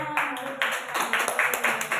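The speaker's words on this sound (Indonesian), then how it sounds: "Tepuk tangan ke semuanya" A small group claps in a classroom, sharp uneven claps in quick bursts over a faint steady hum, with no talking.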